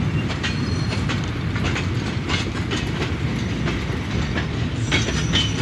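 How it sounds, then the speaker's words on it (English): A model train locomotive runs steadily along its track, giving a continuous close rumble with rhythmic clicking from the wheels for several seconds, with no talking. "the loco reverse shunts onto the rake of stone wagons, connects up, and off he goes"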